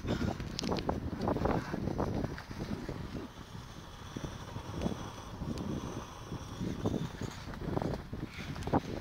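Strong wind roars and buffets the microphone on a summit in the Peak District, loud and continuous in gusts, with no talk over it.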